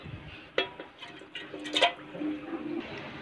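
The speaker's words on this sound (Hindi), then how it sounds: "हमने यहाँ पर कुकर में पानी ले लिया है और अब हम इसमें मशरूम को डाल देंगे।" Mushrooms tipped into water in a pressure cooker, giving a few soft splashes and plops with clatter against the metal pot, fairly close and moderate in level.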